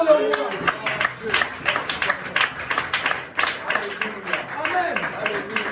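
A church congregation applauding to acclaim the king during a consecration service, a dense stretch of crowd clapping mixed with voices calling out and cheering over it.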